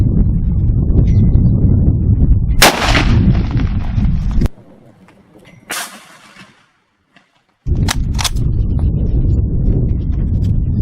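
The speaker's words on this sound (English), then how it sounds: "So here's our single shot of .30-06 AP" A single .30-06 armor-piercing rifle round fired at a Level IV body armor plate at an outdoor range: one sharp, loud crack with a brief burst of impact noise, set against steady wind and background rumble.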